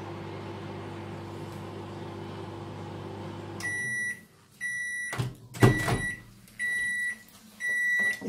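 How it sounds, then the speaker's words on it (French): A microwave oven heating a bag of potatoes hums steadily, then stops with a clunk and a door opening, followed by a series of loud, close repeated beeps. "Au micro-ondes, pas au four."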